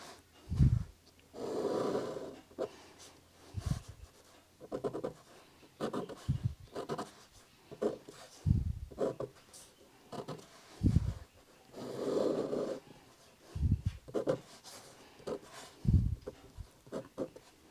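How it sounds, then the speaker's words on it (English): Pen or pencil drawing lines across paper, a series of soft scratchy strokes in an irregular rhythm, close and quiet, with low breathing-like sweeps between them. "Now I'll draw some lines down across here."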